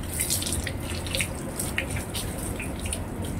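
Water runs and splashes continuously while a dog is washed outdoors on bath day, a steady hissing spray with scattered drips and splashes, close and moderately quiet.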